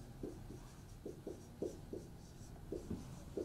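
Marker or chalk strokes on a board as chemical structures are drawn, a series of short rubbing scrapes in uneven bursts, fairly faint and close, with no talking.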